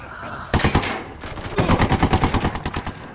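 Automatic gunfire in the video game Ghost Recon Wildlands, two loud rapid bursts of shots, a short one followed by a longer rhythmic burst, with a faint voice in the background.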